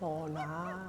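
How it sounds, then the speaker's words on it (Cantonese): Ducks give a loud, close, drawn-out honking call that holds steady for about a second, with a short shouted word over it. "好多鴨叫啊！"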